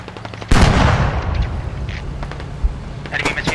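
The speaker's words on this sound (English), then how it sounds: "Enemy machine gunner." Enemy machine gun fire in the video game Squad, a loud burst opening at half a second then continuing as rapid crackling shots amid explosions and battlefield noise, with voices talking over it.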